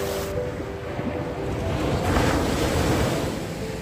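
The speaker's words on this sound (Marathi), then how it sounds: "हे बघा नाही का, मोठ्या मोठ्या लाटा येतात." Big ocean waves surge and wash onto the sloping sand of Sagareshwar Beach in Vengurla, a continuous close roar with rising swells and wind buffeting the microphone.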